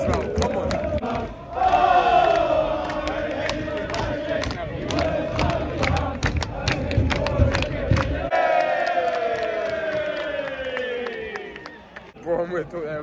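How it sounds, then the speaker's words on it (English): Wrexham football fans sing and chant loudly together at an away match at Boreham Wood, a sustained melodic crowd chant that swells and carries on over stadium noise. "The crowd are really livening up as well."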